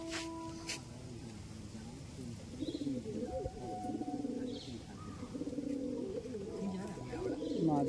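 A female pigeon coos in a loft, soft repeated rolling coos rising and falling through most of the stretch, with other birds chirping faintly and a voice talking over parts.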